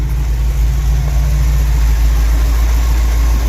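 A car engine idles loudly and close with a noticeable misfire, a steady low rumble with an uneven pulse throughout.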